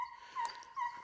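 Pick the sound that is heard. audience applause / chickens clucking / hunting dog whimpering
hunting dog whimpering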